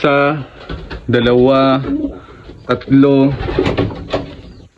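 Pigeons coo in a few repeated, resonant low phrases, close by and fairly loud, alongside faint shuffling noises.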